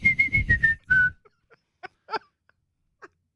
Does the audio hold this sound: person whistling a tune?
yes